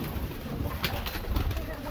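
Wild red Lalban pigeons from Sonipat, confined in a net, make soft cooing and a few faint wing flutters under steady low background noise, with a voice talking faintly nearby.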